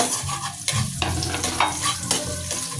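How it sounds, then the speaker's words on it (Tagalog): Garlic sautéing in hot oil as the first step of sinigang na lechon, with a loud, continuous sizzle broken by several sharp scrapes and stirs of a utensil in the pan. "Unahin lang muna natin itong bawang igisa"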